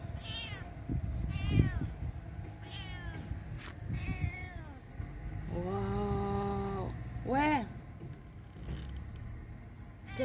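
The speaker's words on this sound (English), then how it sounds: "There's a baby cat?" Small kitten in a garden meowing several times in rising, wavering cries, close and clear, with people talking excitedly around it.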